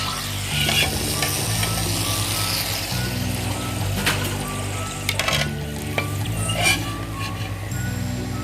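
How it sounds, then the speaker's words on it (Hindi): Gujiya dumplings fry in hot oil with a constant loud sizzle, while a utensil stirs and scrapes through the oil in occasional knocks throughout. "इस तरह से हम अपनी बाकी गुजिया जो है वो भी फ्राई कर लेंगे।"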